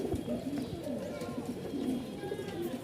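Pigeons at a pigeon farm market in Mirpur, Dhaka, make repeated low, rolling coos close by, with a voice talking faintly in the background.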